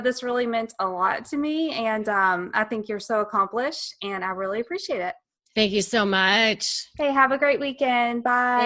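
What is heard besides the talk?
None of the usual background noises is heard.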